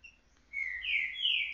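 A captive female green-winged saltator (trinca-ferro) calls in a short burst of bright, rising whistled notes after a brief silence, close and clear with no voices.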